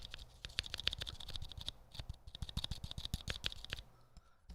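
Rapid, faint typing patters on a mechanical keyboard with Holy mod switches still breaking in, a dense run of close clicky keystrokes that thins out toward the end.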